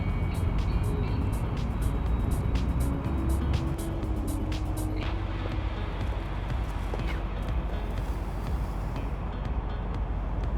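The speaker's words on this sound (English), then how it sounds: "This is it. This is my bus." Bus pulling up at a city stop: steady road rumble and a low engine tone that swells briefly, then settles into continuous traffic noise.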